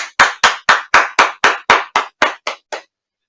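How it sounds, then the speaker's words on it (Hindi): Eleven sharp, evenly spaced hand claps, loud and close, at a Hindi kavi sammelan poetry gathering, each clap trailing off quickly before the next, with no talk. "आप सभी का स्वागत करें जोरदार तालियों के साथ सतमोला कवियों की चौपाल में।"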